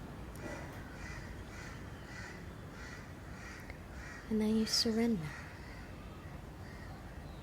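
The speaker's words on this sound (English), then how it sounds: "Hearing maybe the birds, the crows" A crow caws a couple of times at middle distance, harsh calls standing out briefly while a person speaks calmly.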